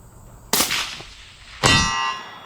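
Rifle shot at long range followed by the metallic clang of the bullet striking a steel target, two sharp impacts about a second apart with ringing decay, loud against a quiet outdoor background.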